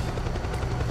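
A helicopter in the video game Metal Gear Solid 4 thrums with a steady, loud rotor chop throughout, a continuous rhythmic pulsing with no pauses.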